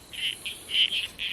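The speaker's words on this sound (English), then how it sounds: "A lot of frogs too." Frogs call in the Australian bush at night, a run of short, raspy croaks repeating close by in quick bursts against a quiet background.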